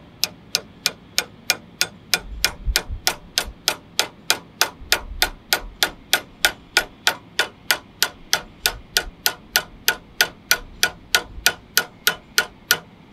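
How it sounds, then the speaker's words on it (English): A hammer taps a clogged grease fitting in a fast, even series of sharp metallic ticks, roughly three per second, close and crisp with no talk. "I'm gonna grab my hammer here and I'm just gonna tap it"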